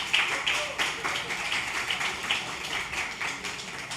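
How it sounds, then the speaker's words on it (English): An audience at a literary festival applauds a panel with steady, moderate clapping from a room full of people, carried for several seconds with slight rises and dips. "Please give them a round of applause."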